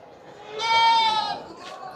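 A goat gives a single loud, wavering bleat at a busy livestock market, close by, with a murmur of people in the background.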